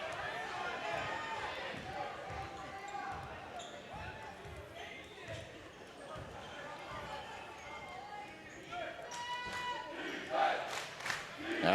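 The Wimberley crowd chants in rhythmic bursts at a high school basketball district tiebreaker game against Navarro, amid gym noise, ball bounces and a commentator talking over it.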